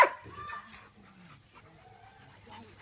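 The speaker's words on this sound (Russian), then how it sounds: "тут собачка гуляет" A dog gives a sharp yelp or whimper at the very start, then only faint, low stirring sounds follow during an outdoor game with people nearby.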